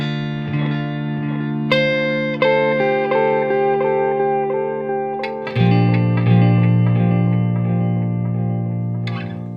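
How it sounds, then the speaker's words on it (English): Electric guitar swells played through a TC Electronic Flashback tape delay with light modulation, soft-attack chords blooming into long, wavering repeats that stack and sustain continuously, with a fresh low swell entering midway; no talking. "So this is just a nice standard tape delay with a bit of modulation on it."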